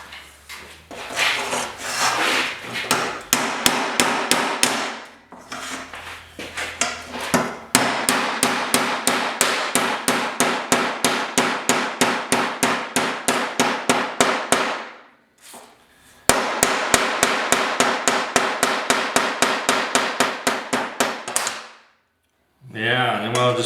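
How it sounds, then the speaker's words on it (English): A buffer wheel cleans copper pipe before soldering, giving a loud, rapid rasping chatter as the pipe turns against it, in long bursts separated by brief pauses. "Copper has to be cleaned before you solder it up anyway. So I'm just gonna run around the buffer"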